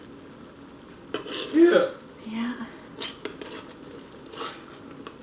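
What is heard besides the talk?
stirring ground meat and vegetables together in a pan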